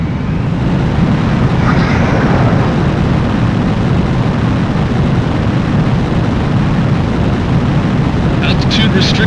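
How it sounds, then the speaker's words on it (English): Jet aircraft taking off in the Ace Combat 4 video game, a loud, steady broadband engine roar that holds at full strength throughout, with a few brief clicks near the end. "Mobius 1, you are cleared for takeoff."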